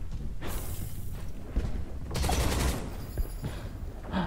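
Gunfire and explosive bursts from the video game Quantum Knights, a dense, continuous barrage of shots and booms with heavy low-end thumps throughout and a few sharper impacts.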